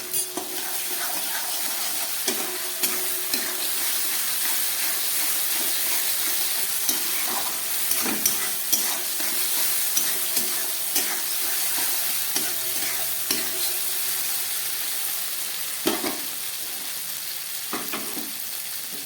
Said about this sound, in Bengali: এবারে দিয়ে দিচ্ছি 1 চামচ লঙ্কা বাটা